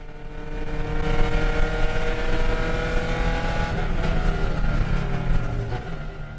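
A race car in a Lemons race weaves through traffic with a loud, continuous engine drone heard from inside, its pitch rising and falling as the driver works the throttle.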